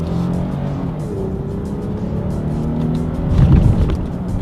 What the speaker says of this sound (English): let's go ahead and do a quick little paddle shifter test first to see how quickly these paddle shifters react